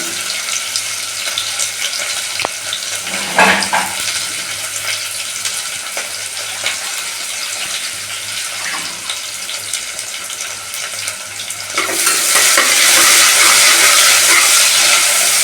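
Onions frying in a pan for veg biryani give a loud, continuous hiss close up, with a brief scrape partway through and a rise into a louder, brighter sizzle near the end.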